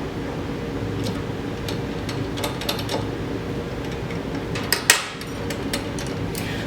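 A CBT test machine's rollers are loosened and raised, producing a run of light metallic clicks, ratcheting taps and rattles. A louder clank comes near the end, over a steady low mechanical hum.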